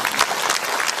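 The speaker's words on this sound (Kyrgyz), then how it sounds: "Кол чабуулар болсун." An audience at a Kyrgyz community gathering in Moscow claps in a short burst of dense applause that lasts about a second.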